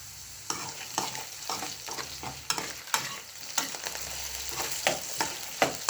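Potatoes frying in a pan, a dense steady sizzle broken by repeated scraping and stirring clatters of a utensil against the pan, close and fairly loud, with no voices.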